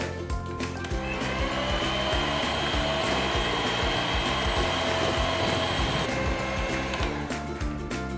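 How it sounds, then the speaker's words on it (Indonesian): An electric mixer runs at high speed whipping a mixture made with cold water for a Lotus Biscoff dessert box, a steady loud whirring motor with a clattering rattle, continuous for several seconds and fading at the end, with no talk. "Kemudian di mixer menggunakan kecepatan tinggi sampai kaku"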